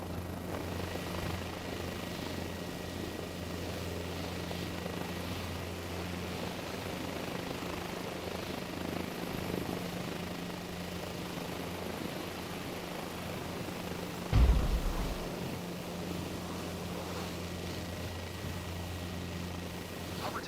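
Helicopter in Microsoft Flight Simulator 2024 spooling for takeoff, a steady droning rotor and engine hum throughout with a brief low thump partway, no talk.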